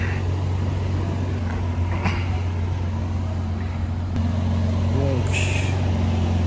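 A parked supercar idles in a Paris street, a steady low engine rumble throughout with faint passing traffic, while someone speaks over it.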